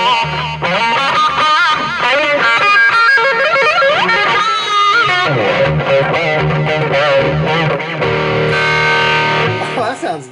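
A distorted electric guitar runs through a BOSS effects unit set to a 1970s-style delay, playing loud, sustained bending lead lines with echoing repeats that fill the whole passage.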